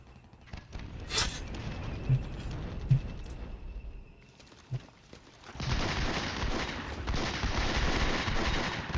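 Artillery battery firing counter-battery fire in a NATO-versus-Soviet war video game, with a few sharp booming shots early on, then a dense, sustained roar of gunfire and explosions rumbling through the second half.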